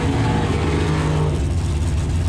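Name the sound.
Super Pro altered drag race car Mr. Hyde accelerating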